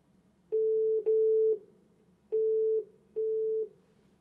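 Activation tones from an ESG-410 device, four steady electronic beeps of about half a second each, in two closely spaced pairs, clear and alone over faint background hum.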